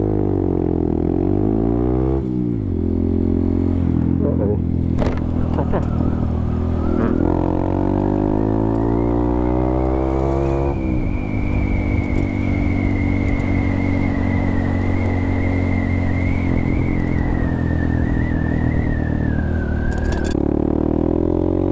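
Honda Grom motorcycle ridden through wet London traffic, its engine droning and shifting pitch continuously through gear changes over steady wind and road roar, close and loud.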